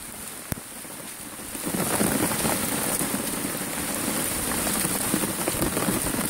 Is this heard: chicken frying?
no